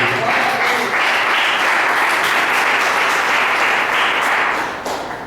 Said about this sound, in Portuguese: Podeis assentar e aplaudir Jesus bem alegre